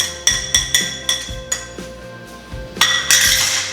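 Spoon clinks repeatedly against a pot or bowl while thick kheer rice pudding is stirred after cardamom goes in, a quick uneven series of bright metallic taps close by with no talking.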